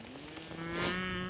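A cow moos in a field near a caravan site at Castlerock by the Black Glen, a single drawn-out bellow that swells toward the end, moderately distant and fairly quiet, with no speech.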